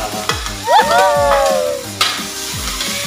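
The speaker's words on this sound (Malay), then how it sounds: "yang terakhir barulah kita masukkan daun betek, bunga betek." Papaya leaves and flowers stir-fry in a pan: a repeated rhythmic scrape of stirring over a constant close sizzle, with a brief wavering high whine partway through.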